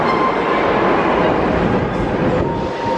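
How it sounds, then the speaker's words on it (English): A train arrives at a station platform with a loud, steady roar of wheels on rails, a faint squeal and a rising rumble that fills the whole stretch, with no talk over it. "look guys, it's coming. Train is coming."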